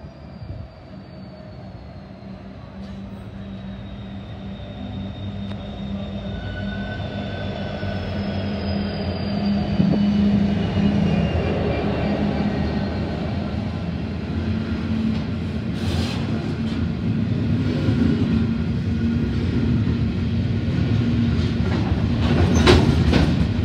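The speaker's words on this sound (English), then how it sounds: "we have 2126 about to pass platform number 2 carrying the limestone train." A heavy limestone freight train rumbles past a station platform close by, wheels squealing and clattering over rails, growing louder as the wagons roll through.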